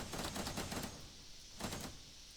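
Rapid machine-gun fire in the video game Teardown comes in two quick rattling bursts, a longer one followed by a short one after a pause, loud and close with no talk.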